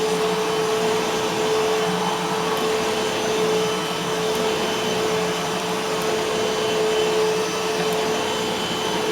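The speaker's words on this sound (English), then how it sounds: "Very big and bulky vacuum cleaner, that's for sure." A Eureka Boss Smartvac 4870 upright vacuum cleaner runs on a hard floor, a loud, steady motor whine with a constant tonal hum and airy rush throughout, close and uninterrupted.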